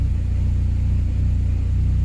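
Hondata-tuned Honda engine idling on cold startup, a steady, even low rumble with a regular pulsing beat, close and continuous with no voices.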